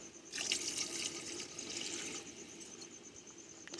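Water poured from a glass into a cooking pot for chicken curry, a steady splashing pour that swells early and then runs on evenly at close range, with no talking.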